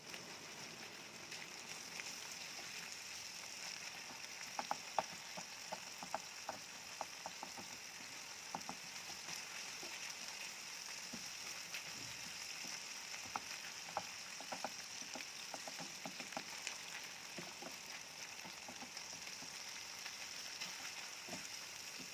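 Meat sizzles and frying crackles in a pan as it is stirred for a koshari-shop style tagine, a steady close hiss dotted with scattered pops and light scraping, no voices.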